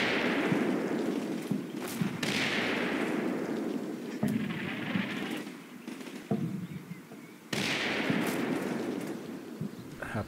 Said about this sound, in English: I'm also shopping mortars on that guy there.